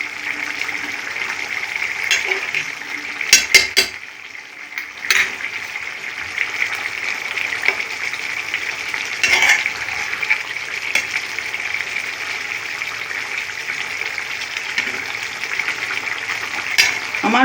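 Ghee sizzles steadily in a pan as paneer fries, a constant crackling hiss with a few scraping stirs and clinks.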